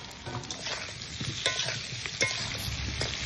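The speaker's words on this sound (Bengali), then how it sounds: "আলুটা আস্তে আস্তে ভেজে নিচ্ছি যাতে ভালো করে সিদ্ধ হয়।" Potatoes for Kashmiri aloo dum frying slowly in a pan, giving a continuous soft sizzle with occasional spoon scrapes, close but fairly quiet, with no voices.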